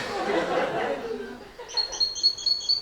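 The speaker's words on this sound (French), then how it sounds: "Ça, je crois que c'est le pinson." A finch sings outdoors with a quick run of bright, high chirping notes in the second half, fairly close and clear, following a stretch of softer rustling and a murmuring voice.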